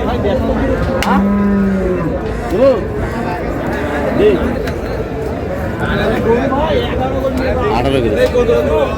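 Cattle low repeatedly at a busy livestock market where large bulls are traded, several drawn-out moos rising above constant crowd chatter and people talking nearby.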